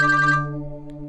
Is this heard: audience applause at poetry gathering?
no